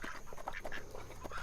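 Backyard ducks quack in a short series of nasal calls over a steady outdoor hiss, moderately close and fairly quiet, with no voices.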